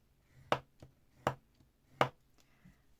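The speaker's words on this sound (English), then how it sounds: "So I'm just going to score down those bits." Paper being scored with a scoreboard tool for buttonhole binding, three sharp, crisp strokes spaced about three quarters of a second apart, close and quiet, with soft handling noises between them.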